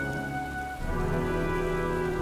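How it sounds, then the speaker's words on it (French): Rain pours steadily during a thunderstorm in the video game Heavy Rain, a dense continuous hiss with a deep thunder rumble swelling in and holding underneath. "Je crois qu'un orage se prépare."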